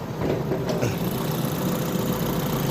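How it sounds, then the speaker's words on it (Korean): An Alfa Romeo Giulietta Quadrifoglio with a chip-tuned 1750cc turbo engine idles in a steady, even mechanical hum, heard up close from the engine bay with no talking. "먼저 엔진룸부터 볼까요? 지금 시동이 걸려 있거든요."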